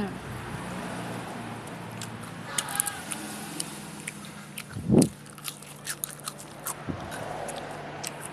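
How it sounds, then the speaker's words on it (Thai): Crunchy fresh vegetables are bitten and chewed up close, with scattered crisp crunches and one loud bite in the middle, while someone talks and faint traffic hums behind. "มีฟังเสียงเคี้ยวผัก ดังกรอบๆนึงมันกรอบ จริงๆ"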